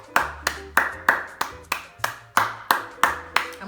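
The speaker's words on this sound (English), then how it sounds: "I'm also clapping for myself" Hands clap about a dozen times in a steady, evenly spaced rhythm, close and crisp, with no other sound between claps.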